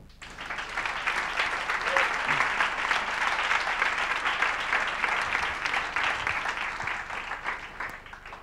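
Steady, full applause rolls through an audience at the close of a OuiShare Fest Barcelona session, many hands clapping evenly for about eight seconds before tapering slightly at the end.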